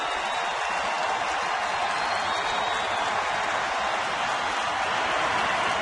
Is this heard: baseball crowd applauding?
yes